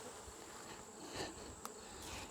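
Honey bees buzz steadily in an open beehive during a winter colony check, a soft continuous insect drone with no talking.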